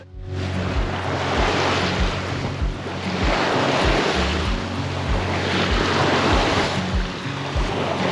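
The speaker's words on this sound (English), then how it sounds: "the swell was building with the wind" Wind and building swell while sailing a sailboat upwind in Greece toward the Ionian, a loud continuous rush of wind noise with waves surging and slapping against the hull in a rolling rhythm.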